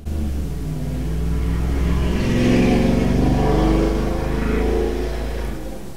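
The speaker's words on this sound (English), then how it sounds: "Frickin' cars." Cars pass outside on a road, a low engine rumble that swells as a vehicle goes by and then fades, with no voices.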